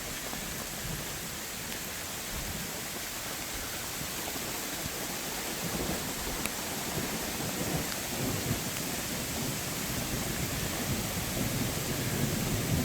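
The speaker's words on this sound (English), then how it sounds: "It's still coming down and I gotta go out and get soaked in it now. Coming down, lightning and thunder." Heavy rain pours steadily with a broad hiss on an inflatable Coody 17.2 Pro air tent during a thunderstorm, while low thunder rumbles beneath and grows slightly louder toward the end.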